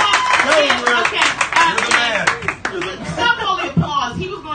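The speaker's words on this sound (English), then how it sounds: "Stop all the applause." Audience clapping and laughter at a live roast battle comedy show, a busy burst of applause and chuckles mixed with crowd chatter and talk throughout.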